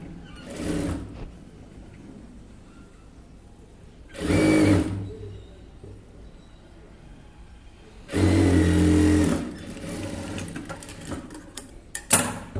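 A sewing machine stitches a blouse in three short bursts of about a second each, loud and close, separated by quiet pauses with faint handling sounds.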